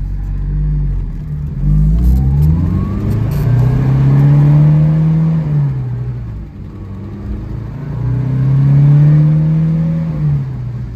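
A 1973 Alfa Romeo GTV with a rear tailpipe stinger and muffler delete drives past, its engine rising and falling through two loud, sustained revving pulls with a steady throaty drone between them and no talk.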